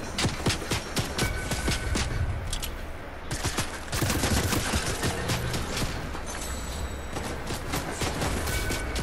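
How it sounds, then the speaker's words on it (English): Heavy gunfire in the video game Fortnite, with dense overlapping volleys of loud close shots that rattle on almost continuously for nine seconds and ease only briefly near the middle. "I'm being shot at by someone."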